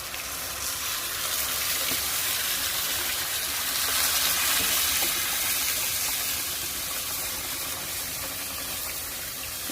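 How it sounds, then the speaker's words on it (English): Beef stock, 32 ounces, poured into a hot pan over browned fond, hissing and sizzling in a steady, dense, close wash of frying noise with liquid gushing throughout, swelling slightly midway. "I'm working with 32 ounces of beef stock going in"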